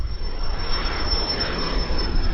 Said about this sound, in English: It's a little Cessna Citation.